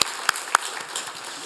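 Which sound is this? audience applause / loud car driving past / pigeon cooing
audience applause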